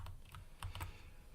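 Typing on a Work Louder Nomad E keyboard: a quick run of soft, close key clicks with an uneven rhythm, fairly quiet, with no talking.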